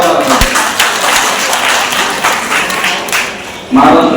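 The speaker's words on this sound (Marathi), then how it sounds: "मुलांनो या कामासाठी खरंच जोरदार टाळ्यांचा आवाज आहे।" An audience applauds at a Nashik district community ceremony honouring students: dense, loud clapping fills the few seconds, with a heavier thump near the end.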